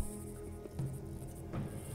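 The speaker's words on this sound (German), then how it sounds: "da oben höre ich es auch schon wieder zirpen" Crickets chirp steadily in a Gothic 2 game scene, a faint, continuous insect trill sitting under a low hum of ambient game music and background tones.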